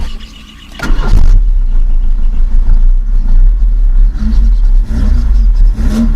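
A 1985 Chevrolet Monza SL/E 1.8 alcohol engine with a slightly holed middle exhaust section cranks briefly, catches, and settles into a loud, close, steady idle with a deep rumble and small revs.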